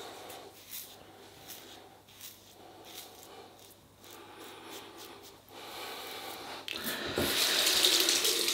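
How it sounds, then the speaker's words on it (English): Cold tap water runs into a sink for a face rinse after a double-edge razor shave, a steady hiss that swells louder and brighter near the end. "A nice cold water rinse."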